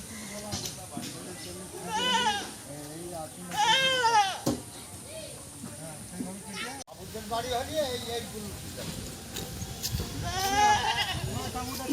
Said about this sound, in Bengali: এই যে ছাগলগুলো আজকে বউ ভাতের অনুষ্ঠানে কাটা হবে এখানে নটা ছাগল আছে